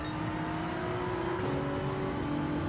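A Porsche race car engine in Gran Turismo 7 drones steadily at a sustained high pitch, with a brief rise around the middle as another car passes closely, racing through a manufacturer qualifying race.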